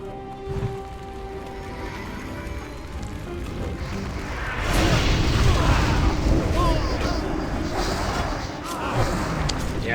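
Fireball spell cast in World of Warcraft: Burning Crusade Classic, a loud rumbling, booming burst of fire that swells midway and stays dense to the end, with game effects layered under a voice talking.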